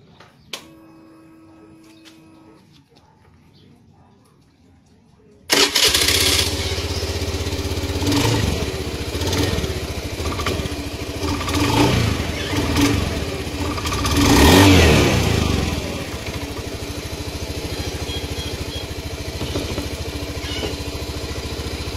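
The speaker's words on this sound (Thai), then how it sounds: "สตาร์ทมอไซค์แล้วให้ล้อหมุนนะครับผม" A motorcycle started with its rear wheel spinning, near-silence broken by a sudden engine catch, then a loud close running engine with several throttle blips and revs rising and falling, no voices.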